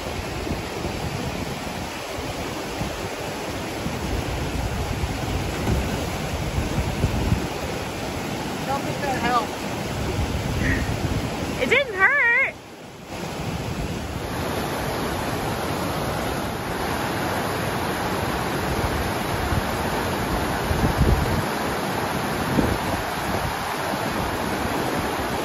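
Steady broadband rush of a river at a trail crossing in the North Cascades wilderness, a continuous water roar with brief faint voices and a short handling bump midway.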